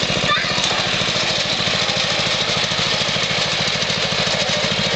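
A riding lawn mower's engine chugs along steadily close by with a rough, rhythmic putter, and people talk faintly over the constant running sound.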